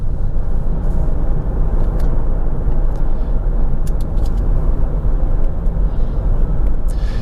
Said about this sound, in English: so as I'm driving along now like this, it's just in two-wheel drive, which is front-wheel drive